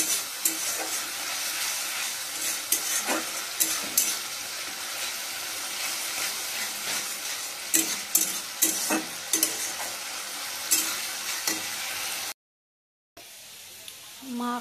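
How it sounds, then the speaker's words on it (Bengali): Machher jhal, a fish curry, sizzles steadily in a pan while a spoon stirs it, with scraping clinks over the hiss, a brief dropout near the end, then frying again. "আমরা দেখো মাছের ঝাল বসিয়ে নিয়েছি"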